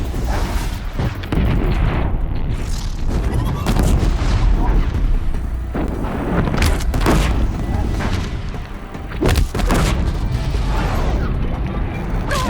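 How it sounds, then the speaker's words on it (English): Blast sling firing bombs during combat in Horizon Zero Dawn: loud, dense booms and bursts one after another over a continuous roar of game action, with a couple of short lulls. "Blast sling firing regular bombs."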